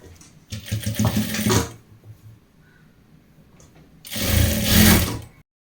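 A sewing machine stitches a folded waistband on a T-shirt in two loud, steady bursts of rapid mechanical whirring, separated by a quiet stretch of faint handling noise.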